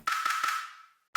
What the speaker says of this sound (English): And here I've got pluck.